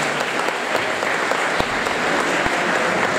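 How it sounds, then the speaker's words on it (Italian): A theatre audience at an Italian poetry award ceremony applauds an actress, dense, loud and sustained clapping from a full room with a few sharper individual claps standing out. "L'attrice teatrale Anna Di Meglio, un applauso."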